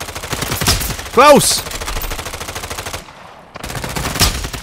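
Rapid automatic gunfire from a shooter video game rattles in dense bursts across most of the stretch, dropping out briefly before resuming, with a short spoken exclamation.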